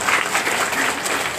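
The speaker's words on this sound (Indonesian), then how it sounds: "Tepuk tangan dulu buat kita semua." Dense, loud applause from an audience at a family program event, continuous for the whole moment.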